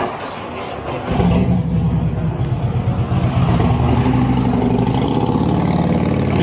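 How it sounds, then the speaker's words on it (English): A nearby motorcycle engine starts up and holds a steady, loud rumbling idle with slight revving, running continuously beneath the background. "I had to talk loud because the motorcycle."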